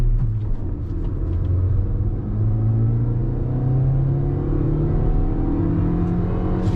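A Maruti Suzuki Victoris LXi CNG base-model car accelerating during a driving test, its engine note rising in a steady, close, loud drone and rumble throughout, with no talk.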